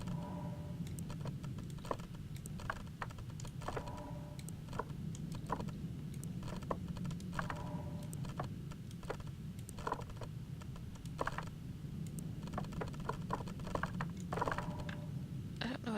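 Sharp keyboard and mouse clicks come in irregular bursts and single taps, close and fairly quiet over a low electrical hum, during play of the horror game Year Walk.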